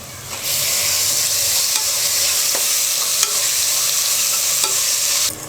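Tomatoes sizzle with ginger garlic paste in a hot pan for vegetable rice, a loud, dense and steady frying hiss interrupted by a few faint scrapes of stirring.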